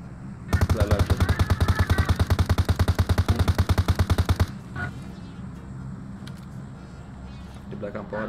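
Rapid automatic gunfire from the PUBG Mobile video game, a fast, even burst of loud shots lasting about four seconds. Quieter game ambience and faint distant sounds follow once the shooting stops.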